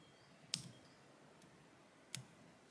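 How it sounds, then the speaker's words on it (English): Two crisp, quiet snips of scissors cutting thread while fly tying, about a second and a half apart, in an otherwise hushed room. "we'll come in here with our scissors"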